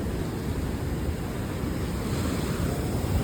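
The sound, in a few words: ocean waves crashing at Gomti Ghat, Dwarka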